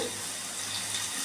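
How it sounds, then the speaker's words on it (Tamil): Steady rush of water being poured into a cooking pan of greens, a continuous splashing hiss with no speech. "கொஞ்சம் தண்ணி ஊற்றிட்டு"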